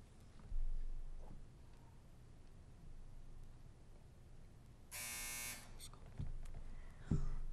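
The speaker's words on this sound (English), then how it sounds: "I heard it over here after the buzzer rang." A quiz show buzzer sounds once, a loud harsh electric tone lasting about half a second amid quiet room noise and a few soft knocks.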